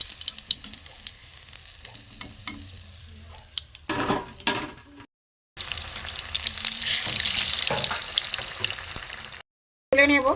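Tomatoes fry in a pan for a vegetarian snack, giving a steady close sizzle with stirring scrapes. A brief gap cuts the sound before the frying swells louder again.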